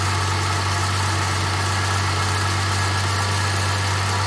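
A 1984 Jaguar XJS V12 engine idling hot, a steady, even hum with a strong low drone and constant mechanical whir that holds unchanged throughout, heard alone and close.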